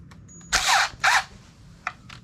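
Power drill driving screws into a strap while installing PEX expansion water supply lines in a basement: two short, close whirring bursts followed by quieter ticks and clicks.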